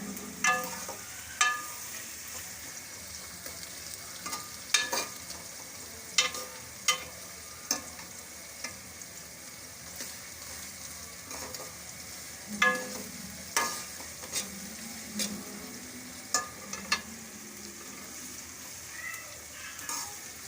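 Onion and garlic fry in a pan for green pea chutney, a soft constant sizzle broken by intermittent scraping and clicking as a spoon stirs them.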